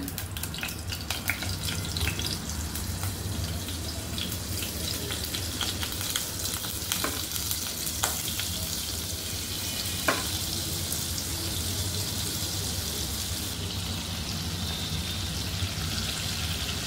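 Butter melting into a little oil for pav bhaji tempering sizzles steadily and loudly throughout, a dense close frying hiss with occasional clicks of stirring.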